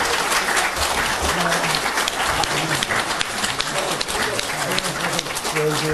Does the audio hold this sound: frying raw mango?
no